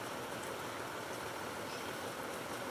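A diesel vehicle engine idles in the BeamNG.drive video game during a flood escape, a steady, even broadband rumble with a hissy, watery wash on top, continuous and unchanging with no talk over it.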